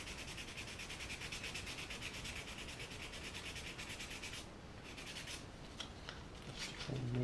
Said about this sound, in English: a bit of fine sandpaper